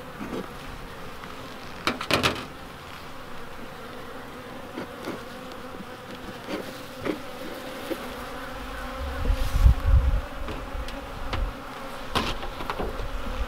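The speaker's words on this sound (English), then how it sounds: "Bees do not like the front of their hive messed with." Honeybees buzz steadily at the front of their hive outdoors in spring, a dense continuous drone of many insects close by, with occasional clicks and knocks from handling the hive.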